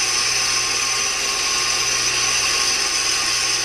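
A wood lathe turns a cast pen blank at around 1,000 rpm, giving a steady, close mechanical whine and hum with constant tones and no breaks.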